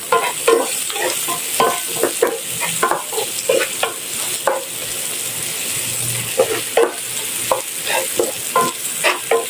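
Garlic stir-frying for ampalaya with pork belly, with sizzling oil under repeated rhythmic scrapes and tosses of a spatula in the pan, loud and close with no talking.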